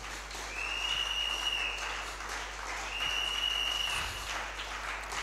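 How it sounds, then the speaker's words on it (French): Audience applause at a sermon fills the space continuously, a steady dense clapping that holds throughout with a faint tonal hum behind it. "Tu peux acclamer si vraiment tu es d'accord avec moi."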